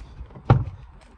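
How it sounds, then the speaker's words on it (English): An RV's driver door is opened with one sharp mechanical clunk of the latch, close and moderately loud, followed by a faint rustle against quiet outdoor background. "let's open up the main driver door here"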